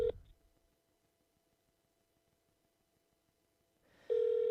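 A phone rings unanswered during phone banking, with a tone at the start, a long quiet stretch of faint clicks, then another loud sustained ring near the end, and no voices.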